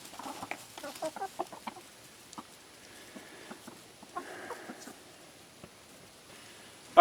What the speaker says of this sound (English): I just thought it'd be interesting to see how the chickens would eat this hornworm